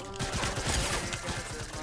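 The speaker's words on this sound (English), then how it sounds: "when I'm hip firing at that range, I feel like it's a lot harder to hit you" An SMG fires from the hip in a video game, a rapid, loud stream of gunshots with overlapping bursts filling the whole moment.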